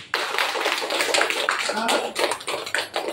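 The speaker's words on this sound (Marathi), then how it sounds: "तर पहिल्या सर्वात टाळ्या वाजवल्या पाहिजे आपल्या दादांसाठी" Audience clapping for a husband, heard as a run of sharp, uneven claps up close, with some overlapping voices.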